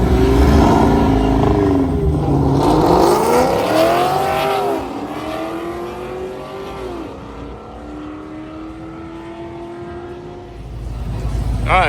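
A Dodge Charger Scat Pack at a drag race revs and accelerates hard, engine pitch sweeping up through gears before easing off, loud and close, with voices talking over it.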